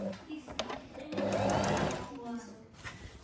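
Sewing machine stitching a curved shirt or kameez neckline in short runs, its motor whirring briefly on and off, loudest in a longer burst in the middle, while someone talks over it.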